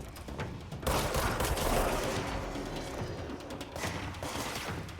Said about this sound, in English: Why is he shooting? Even more.